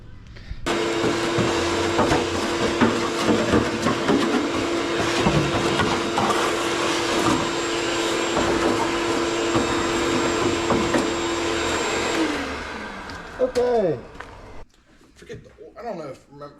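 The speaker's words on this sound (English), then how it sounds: "It definitely needs another quick vacuum out, that's for sure." A steady vacuum cleaner drone runs loudly and evenly for about twelve seconds while cleaning out a 1964 Impala SS convertible, then cuts off, leaving scattered clatter and a brief voice.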